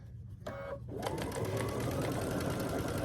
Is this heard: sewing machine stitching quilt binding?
yes